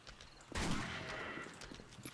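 Gunfire in the zombie survival game 7 Days to Die, a loud burst starting about half a second in and tailing off over the next second and a half, with no talk.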